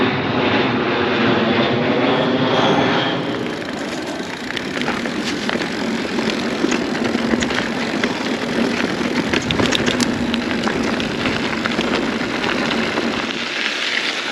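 An airplane passes low overhead near an airport, a loud, steady engine roar that fills the whole stretch and slowly shifts in tone as it goes by.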